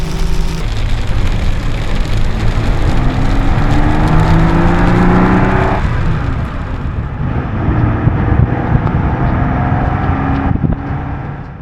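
A Ferrari 250 GTE's engine pulls hard on a wet road in France, a loud continuous drone whose pitch climbs steadily, drops at a gear change, then rises again under rain and road noise.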